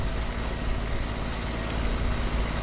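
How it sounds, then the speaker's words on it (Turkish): Truck unloading its load in the video game My Summer Car, a steady low engine rumble with a dense, unbroken mechanical drone, close and constant throughout. "Zaten kamyonumuz şey yapıyor. Boşaltıyor onu."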